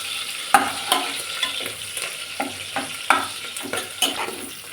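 Cumin, mustard seeds, chilli and a bay leaf sizzle in oil over a low flame while being stirred, giving a steady close crackle with repeated scraping strokes of the spoon against the pan.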